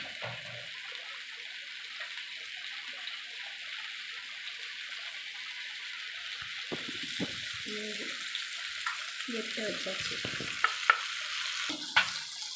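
Eggs frying in a pan give a steady broadband sizzle with crackle throughout, joined later by occasional clinks and brief scraping or stirring noises from turning them; no voices.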